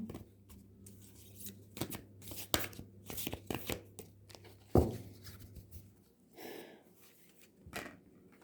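A tarot deck being shuffled and cards drawn at a table, a run of crisp riffling and slapping bursts, then a sharp knock and quieter rustles as cards are laid out, close up with no talk.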